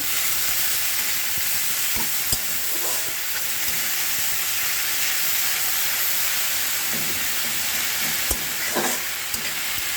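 Water spinach frying in a pan with onion and ginger, a dense steady hiss of sizzling oil with a few sharp clicks of utensils against the pan, and no one speaking.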